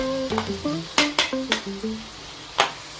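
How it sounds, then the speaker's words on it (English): Broccoli and carrot being stir-fried in a pan, a soft sizzle under a quick run of clinking spatula strokes against the metal, then a final sharper knock. "Now I'm going to stir fry broccoli and carrot."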